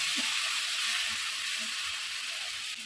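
Onions frying in a pan for a chicken kosha, a steady loud sizzling hiss that runs unbroken throughout.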